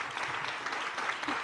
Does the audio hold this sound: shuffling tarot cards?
no